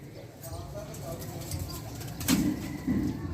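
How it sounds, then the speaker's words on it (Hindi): Soft, low cooing of teddy pigeons comes in two short bursts near the end, mixed with rustling and background noise. "ये सेठ वाले टैडी कबूतर है।"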